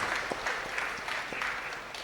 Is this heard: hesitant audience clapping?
yes